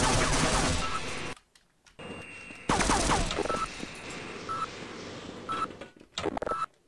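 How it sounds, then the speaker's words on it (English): Grenade blasts and gunfire in the video game Half-Life: Azure Sheep arrive as loud, abrupt broadband bursts with sharp rattling hits, broken by short silent gaps and sudden cuts. "Well, time for grenade. Say hello to Mr. Grenade."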